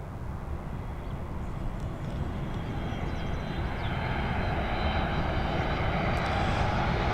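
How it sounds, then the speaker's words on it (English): A Boeing 737 at Dublin Airport makes a broad, loud jet engine roar that holds steady and swells slightly, with no talking over it. "There you go, that Boeing 737"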